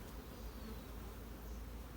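Honey bees swarm around an open hive during an inspection, a dense, constant buzz of many insects filling the air, steady and close without any voices.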